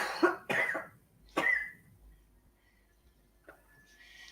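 A person with a persistent cough hacks three times in quick succession, loud and close, followed by quieter throat sounds in a still room.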